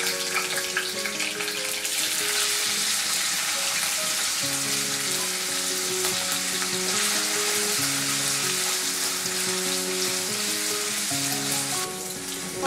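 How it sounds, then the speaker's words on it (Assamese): Paneer fries in refined oil in a kadai, a dense, steady sizzle heard close up and almost watery in tone, with a constant hiss and no voices. "এতিয়া আমি পনীৰখিনি অলপ ফ্ৰাই কৰি লম"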